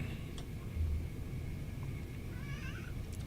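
A pet cat gives a faint, drawn-out meow near the end over low steady background noise and rumble; no talking.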